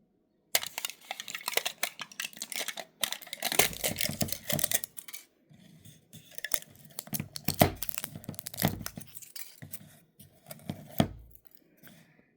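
Crinkly plastic tearing and rustling in repeated bursts, close up, as a packet of sugared dried gooseberries is ripped open and handled; no talking.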